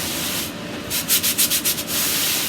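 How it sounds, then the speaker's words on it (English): Sticky transfer being rubbed down by hand onto a fabric pillow sash, a series of quick close scratchy strokes in a burst of about eight rubs over a soft background hiss. "I'm just going to center it on my pillow sash and give it a nice rub down, nice and tight"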